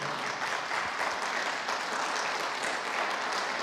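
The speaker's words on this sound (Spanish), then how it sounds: "Dale un aplauso al Señor." Dense, loud applause from a church congregation filling the room, a continuous close wash of clapping with no speech over it.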